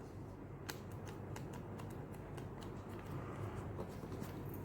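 Scissors snip paper circles for a paper jewellery craft in a series of faint, close, irregular crisp cuts over a quiet room background.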